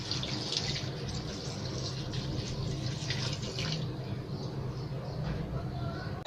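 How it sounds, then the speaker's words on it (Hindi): Water pours into a pot for cooking beef shami kebab with cumin, salt and green chillies, a steady close splashing stream running throughout the short stretch. "ढाई गिलास के करीब मैं पानी ऐड कर रही हूँ।"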